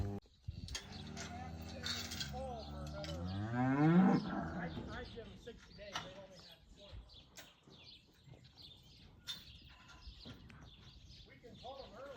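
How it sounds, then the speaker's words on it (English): Cows and calves moo loudly nearby, one long rising call standing out among other lowing, with a person speaking and faint ticking in the background. "here is the front is cows, the back is the calves"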